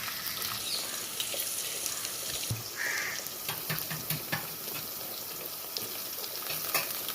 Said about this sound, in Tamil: வெங்காயம் நல்லா வதங்க விட்டு தக்காளி சேர்த்துக்கலாம்